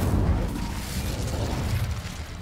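A burst of fire magic from the Incendio spell in a Harry Potter-style video game, heard as a loud, sustained roaring whoosh with a deep booming low end that holds steady for a couple of seconds.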